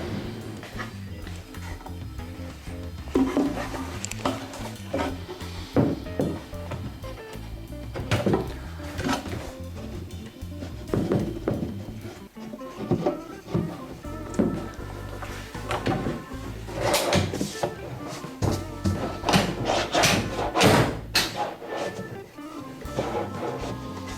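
Recycled wooden drawers slid into a wooden drawer unit and adjusted on their runners, with repeated clunks, scrapes and knocks of wood over about twenty seconds, some louder bangs near the end.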